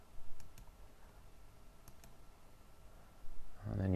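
Sparse, faint mouse clicks from drawing a simple pie chart on a computer, scattered over quiet room tone, with a louder burst of noise near the end.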